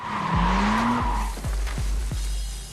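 A car drifts with a long, loud tire squeal that sweeps upward, followed by several sharp engine revs and squeals over a steady rumbling motor, with no voices.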